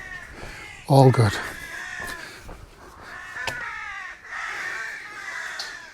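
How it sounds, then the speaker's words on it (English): Crows caw outdoors on the South Devon coast path, several harsh calls at moderate distance, repeating under and between a man's speech. "the crows are crowing"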